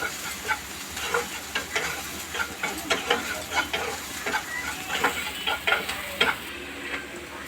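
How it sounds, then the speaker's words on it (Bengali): Onions with turmeric powder frying in a pan under constant stirring, a continuous crackling sizzle punctuated by rhythmic scrapes and clacks of a spatula against the pan, close and fairly loud. "অনবরত চালাতে হবে, না হলে এটা নিচে লেগে যাওয়ার সম্ভাবনা অনেক বেশি থাকে।"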